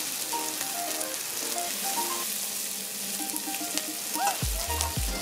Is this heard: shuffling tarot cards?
no